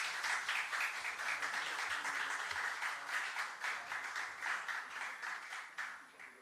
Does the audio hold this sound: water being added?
no